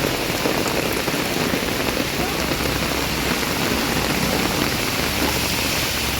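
Heavy monsoon rain falls on a street, a dense, constant roar of drops hitting the ground and surfaces, loud and even throughout with no voices.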